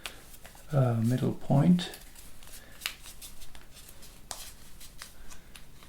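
Paper being folded into an origami heart cardholder makes a few soft crinkles and short creases, close and quiet, while a voice speaks over and between the folds.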